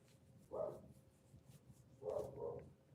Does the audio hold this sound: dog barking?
yes